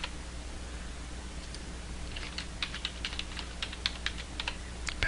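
A burst of keystrokes on a computer keyboard types a password during a NetScaler web interface setup, quick irregular clicks starting partway in over a low steady room hum, close and fairly soft.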